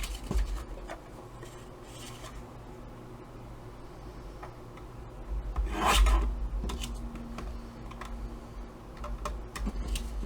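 Paper is cut into half-inch strips with repeated soft scratchy slicing sounds close up, one cut louder than the rest, with no voices.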